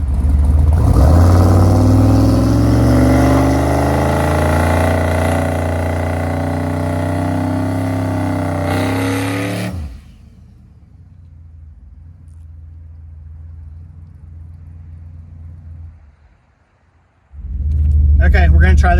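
A Dodge Dakota truck fitted with a line lock, its engine roaring loudly with rising and falling revs for about ten seconds, then a low idle hum, then another loud surge, with a person talking.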